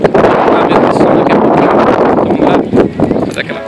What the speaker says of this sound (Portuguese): vento danado